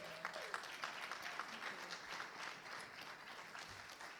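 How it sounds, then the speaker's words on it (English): Audience at a morning conference session on the Caribbean and Grenada giving a round of applause, fairly faint and distant with scattered distinct claps rather than a thick roar, continuing steadily throughout. "Let's give her a round of applause"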